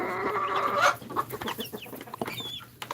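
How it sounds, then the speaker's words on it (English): A native hen clucks in short, soft calls close by on a farm, with a scattering of brief chirps and thin peeps around it. "Our native hen incubated the egg, and here it is."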